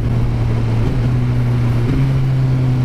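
Suzuki GSX-R1000R sport motorcycle engine running with a quick shifter and auto-blipper, a loud steady low drone whose pitch steps up cleanly partway through as it shifts, heard alone without talk.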